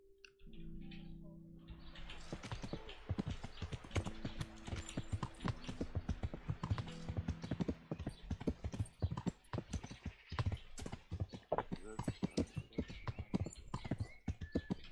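Steady clip-clop of horse hooves trotting at an even pace in the video game Kingdom Come: Deliverance, close and continuous, with a faint tonal hum early on.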